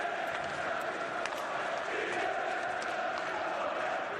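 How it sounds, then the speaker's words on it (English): A crowd at a Swedish Hockey League match between Rögle and SønderjyskE chants steadily, a dense continuous roar filling the arena with no pauses. "Good chanting crowd early on, great atmosphere here"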